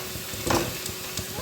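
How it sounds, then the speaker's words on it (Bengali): Onions sizzle steadily in hot oil as they fry until reddish-brown for beresta, a crackling hiss that swells briefly near the middle and carries faint kitchen movement beneath. "লাল লাল করে বেরেস্তার পেঁয়াজটা ভেজে নিচ্ছি।"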